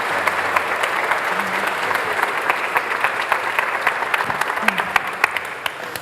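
Audience applause welcoming poet Billy Collins at a seminary event, a dense steady clapping from a sizeable crowd with a few louder individual claps and faint voices underneath.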